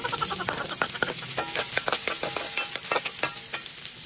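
Chicken gizzards sautéing in a pan for kalderetang atay at balun-balunan, a steady crackling sizzle broken by repeated sharp clinks and scrapes of a utensil stirring, close and continuous with no talking.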